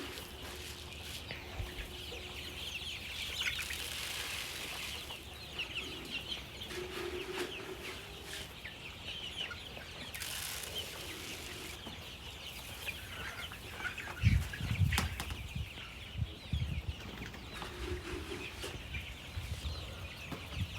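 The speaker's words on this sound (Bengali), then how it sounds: "মুরগিগুলা একদম পাশে জড়াজড়ি হয়ে আছে একটা একটা আরেকটার সাথে, শরীর গরম রাখার জন্য।" Chickens in a coop on a rainy day, huddled together, give soft scattered clucks under a steady background hum, with a louder burst of low thumps and rustling near the end that suggests flapping.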